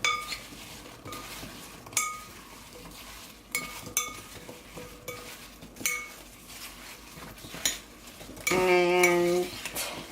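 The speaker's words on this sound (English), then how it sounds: "date sugar, and I'm going to mix this in." A utensil stirs date sugar into an apple filling in a bowl, giving repeated sharp clinks and scrapes at an uneven pace, followed by a brief louder ringing knock near the end.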